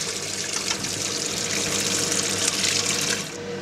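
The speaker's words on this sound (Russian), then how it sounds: "И хорошенько промываем большим количеством холодной воды." Cold tap water pours steadily and close by over cooked rice vermicelli in a colander, rinsed for a Vietnamese chicken pho, a continuous hissing splash with no pauses.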